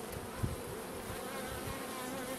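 A honey bee colony hums with steady, dense buzzing while a hive is split ahead of swarming, a continuous close drone with one brief louder knock near the start.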